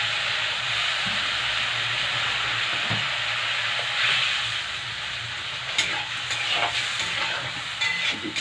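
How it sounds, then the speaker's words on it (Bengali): Water hits a hot pan of lightly fried spiced curry, setting off a loud, continuous hiss and sizzle that slowly settles, with a few clinks of stirring near the end. "এবার জল দিয়ে দেবো।"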